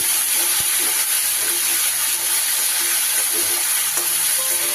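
Spice paste frying in hot oil with turmeric for a rohu fish curry with bottle gourd, a steady close sizzle and hiss with faint clinks, no talk.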